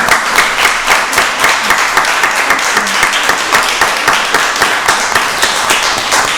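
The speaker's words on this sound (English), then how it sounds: "ask that you all join me in giving the commissioners a round of applause." An audience at a county board of commissioners work session applauds, a loud steady round of clapping throughout.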